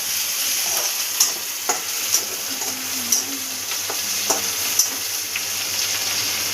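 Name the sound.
tomato frying in oil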